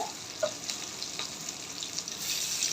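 Five or six chopped green chillies frying in a pan of hot oil for a bitter gourd dish: a steady, close hiss and crackle with occasional pops, with no talking.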